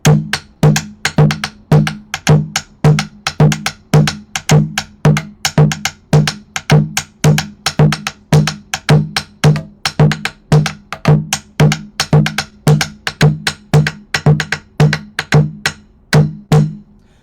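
Djun djun drums play a simple, steady repeating rhythm of sharp, resonant strokes, loud and close, alone without talk throughout.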